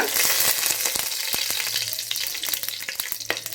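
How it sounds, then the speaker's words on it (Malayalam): Cinnamon and cardamom frying in coconut oil, a steady close crackling sizzle with sharp pops scattered throughout and occasional stirring. "ഈ വെളിച്ചെണ്ണയിലേക്ക് നമ്മൾ 3 ചെറിയ കഷ്ണം പട്ട, 2 ഏലക്ക,"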